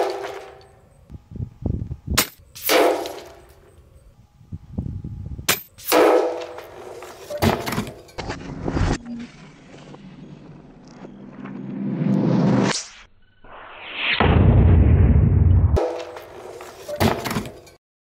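Brocock Commander Magnum HP air rifle fires a series of shots during a long-range accuracy test, each giving a sharp crack with metallic clanging and thunks, mixed with louder mechanical handling noise between shots.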